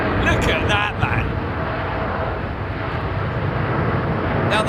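An airliner taxis at London Heathrow Airport, its engine roar a broad, steady rumble close by, with brief chirpy bursts at the start and end.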